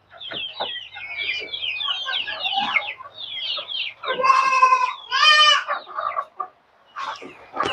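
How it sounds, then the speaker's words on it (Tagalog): Several chickens cluck and chatter in quick, overlapping bursts, with a couple of louder squawks near the middle, close by and without talk. "Ating mga manok."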